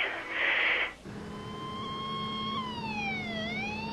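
An ambulance siren wails with a sustained, steadily sweeping tone that follows a brief burst of noise, moderately loud and fairly close, with no talk.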